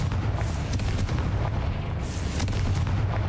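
Confringo blasting spell explosions in Hogwarts Legacy land as a run of heavy, rumbling booms and crackling bursts. They stay dense and loud throughout, with no voices above them.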